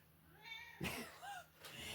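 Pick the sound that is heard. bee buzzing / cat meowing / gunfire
cat meowing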